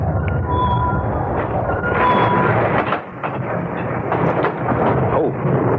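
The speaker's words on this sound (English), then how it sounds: "Damn rain makes it impossible to see." Heavy rain pours steadily in a radio drama while deep rumbles of thunder roll through, one heavier crack standing out midway.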